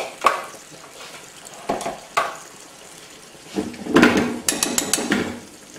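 Sweet potato, yam and ordinary potato for a vegetable curry fry in a hot pan, with an uneven crackling sizzle, clanking stirring bursts and a louder splash of sizzle toward the end.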